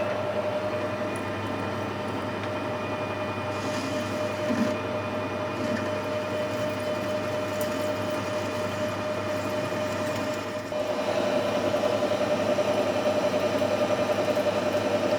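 A milling machine cuts very hard steel, a steady loud grinding drone with a constant high tonal whine running throughout, the cut deepening slightly near the end.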